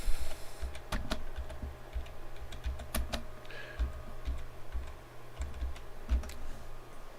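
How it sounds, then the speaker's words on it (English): Fingers type on a computer keyboard nearby, with quick, irregular clicks and short pauses and no voices over them. "I'm typing in."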